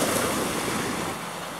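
Sea waves at a tropical island shore at sunrise, near a tourist boat landing: a dense, roaring wash of surf with wind buffeting the microphone, steady and close throughout.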